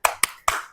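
Three sharp hand claps in quick rhythmic succession, close and fairly loud, from a group clapping together in a meeting, with no talk over them.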